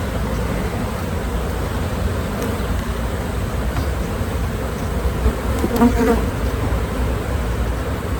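Honeybees buzz steadily and loudly in a dense swarm drone throughout a hive inspection, a continuous close hum with no pauses.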